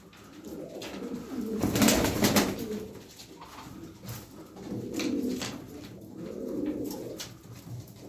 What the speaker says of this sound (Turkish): Bakın yakından bakın kuşlara. Sağlıklı kuşlar.